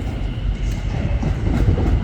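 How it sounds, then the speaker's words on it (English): A new class 720 train rumbles past close by at Crewe Station, its rolling wheels making a dense, steady roar for a couple of seconds. "Well, it's a new train."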